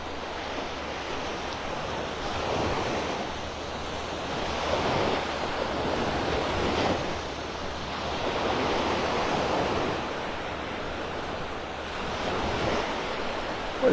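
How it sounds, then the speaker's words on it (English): Gulf of Mexico surf rolls onto the sand at Delnor-Wiggins beach in North Naples, a steady wash of breaking waves rising and falling in slow swells, with wind on the microphone and no voices. "The emerald green waters of the Gulf of Mexico."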